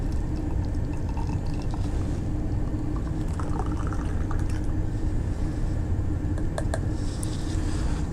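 Homebrew beer pours from a keg tap into a glass with a steady, close hiss of flowing liquid that is constant throughout, with a few faint clinks near the end.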